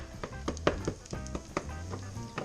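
Garlic sizzling in a pan while flounder is cooked, a close crackling fry broken by several sharp clinks and scrapes of utensils, with no talking.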